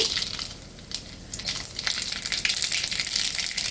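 Mustard seeds splutter in hot groundnut oil in a kadai, a dense, close crackle of rapid pops and sizzling that builds and stays loud throughout.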